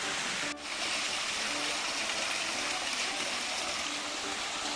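The Hirakud waterfall near Burla in Sambalpur, its flowing water a constant dense rushing roar, loud and unbroken throughout, with no other clear sounds.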